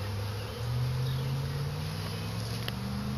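Bees buzzing around a hive made from a split, a continuous low droning hum of many insects close by, steady and unbroken, with one faint brief tick near the end.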